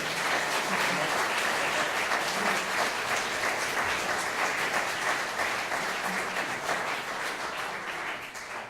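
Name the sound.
audience applause for a men's choir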